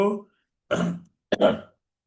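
A person coughs a few times in short, harsh bursts separated by brief pauses, close and fairly loud.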